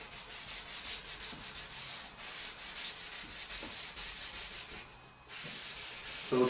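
Hand sanding on a 2004 Honda Civic door with sandpaper, a steady close scratching rub in rapid back-and-forth strokes that dips briefly near the end, no talk.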